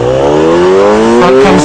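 A motorcycle pulling away hard in first gear for a wheelie, its engine note climbing steadily in a loud, close, rising whine as the throttle opens.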